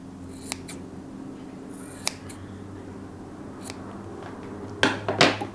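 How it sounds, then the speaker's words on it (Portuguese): Scissors trimming excess fabric from a sewn blouse seam, heard as a few faint, scattered snips over a steady low hum, with a quick cluster of crisper cuts near the end. "Aí você pega a sua tesoura e dá uma refiladinha."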